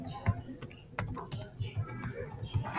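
Keys pressed on a computer keyboard to enter an eight-character password, a short run of soft, uneven clicks close by over low room noise.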